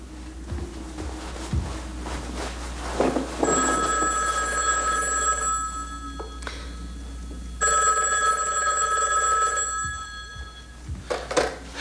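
An old-style telephone bell rings loudly in two long bursts inside a quiet home at night, with a brief pause between the rings and faint background noise.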